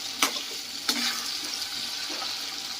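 Fried potatoes sauté in spice masala in a pan for snakehead fish kalia, a soft continuous sizzle with a couple of sharp stirring clinks of a utensil against the pan.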